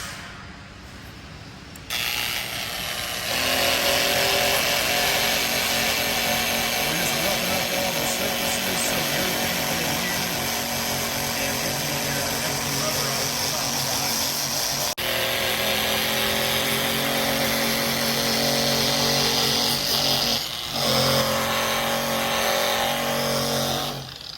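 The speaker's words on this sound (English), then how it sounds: "now Austin's going to come in and buff it up." A power tool buffs the beveled edges of a Continental conveyor belt during a repair, a loud continuous grinding whir that starts after a quieter opening and runs steadily, with a brief dip near the middle and a slight change later on.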